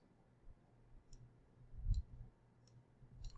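Soft computer-mouse clicks, about five, spaced irregularly and faint over a low background hum, with no talking.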